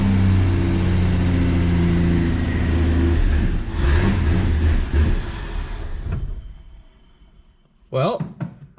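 An old Plymouth Valiant that has sat for 18 years cranks and runs with a loud, rough mid-pitched engine drone and revving, which fades and cuts out, followed by a short clatter; people talk over it.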